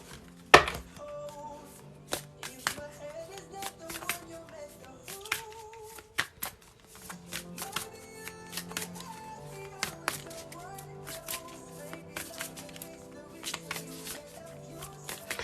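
Advice cards get shuffled and handled in a string of soft riffling and tapping bursts, with gentle background music playing throughout and a sharp snap near the start.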